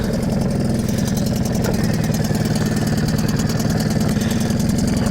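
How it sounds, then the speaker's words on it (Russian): A Yamaha 3 hp outboard motor idles steadily and close, a rapid even putter with a buzzy drone that continues unchanged throughout. "смотрим, как заводится Yamaha 3. Работа на холостых."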